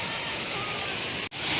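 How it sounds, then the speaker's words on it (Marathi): A waterfall pours down steadily at a hidden falls near Dapoli in the rain, a loud, close, unbroken roar of rushing water with a brief dropout near the end. "हा बघा वॉटरफॉल सुरू झालेला आहे."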